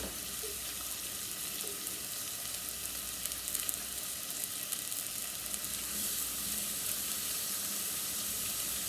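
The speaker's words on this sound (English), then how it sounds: "I'm just going to let that saute a couple of minutes." Food for chicken and dumplings sautéing in a pan, a steady bright sizzle and crackle held at even loudness for several seconds, close and continuous with no talk.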